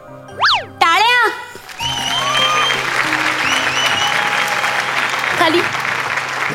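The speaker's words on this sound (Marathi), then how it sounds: "टाळ्या" Studio audience at a Marathi comedy show award presentation bursts into sustained applause right after a couple of cartoonish boing and jingle effects, the clapping dense and steady to the end.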